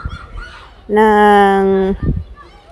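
A seagull being fed at Wolmido Island, Incheon, gives one loud, close, drawn-out call of about a second, with a person's voice just before and after it.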